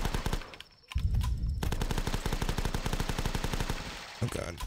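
Rapid automatic gunfire in The Last Stand, a zombie-horde flash shooting game: after a brief lull, a long steady stream of loud evenly spaced shots rattles on for several seconds, then thins out with a few final bursts.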